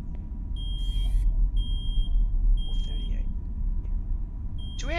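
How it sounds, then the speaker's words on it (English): A fire alarm beeps inside a horror video game, with high electronic tones repeating several times over a heavy low rumble, while people talk and shout faintly in between. "Fire alarm."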